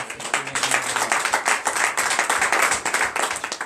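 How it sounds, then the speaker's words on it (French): A church congregation at a morning prayer service claps in a quick, uneven rhythm, fairly close and steady, with a faint low hum underneath. "Donnez de vive acclamation à notre"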